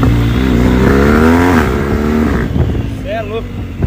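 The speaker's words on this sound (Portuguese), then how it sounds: "Hoje o treino foi com a moto." A loud, close motorcycle engine idles with a steady rumble, then revs up in a rising whine toward the end.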